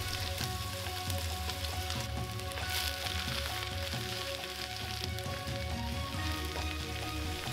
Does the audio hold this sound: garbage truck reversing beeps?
no